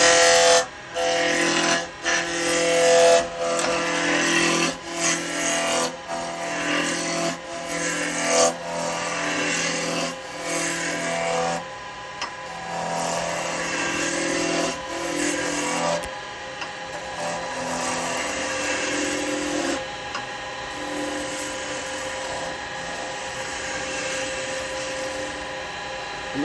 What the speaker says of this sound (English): I'm going to start that up, step over here, let it spin up. Grab your big roughing gouge and just take it down